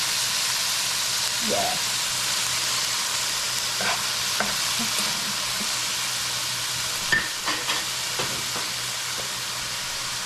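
Food fries in olive oil in a pot for a gilbaka stew curry with potatoes, a steady low sizzle broken by scattered clinks and scrapes of stirring, with a brief spoken word.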